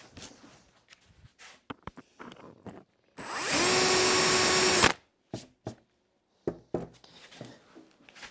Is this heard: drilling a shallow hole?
yes